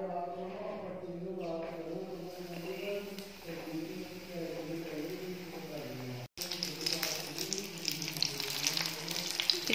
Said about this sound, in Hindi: मिर्च को बेसन में अच्छे से लपेट लिया है मैंने और ये अब हटेगा भी नहीं, देखो अच्छे से लिपट गया। इसको ऑयल में डालती हूँ,